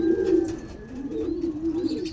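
Pet bird, a pigeon or dove type, giving a low, steady cooing call close by, continuous over about two seconds with faint chirps in the background.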